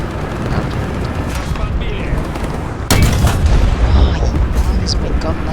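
A tank gun fires in War Thunder, giving one sharp, loud boom that shifts into a heavier rumble under constant engine and battle noise. A voice talks over the scene.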